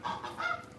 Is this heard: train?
no